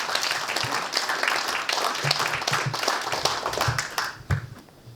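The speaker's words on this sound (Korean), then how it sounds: "광역시장님을 뜨거운 박수로 모시겠습니다." An audience applauds warmly in a hall to welcome the metropolitan mayor of Gwangju at a leadership academy event, steady dense clapping throughout that tapers off near the end.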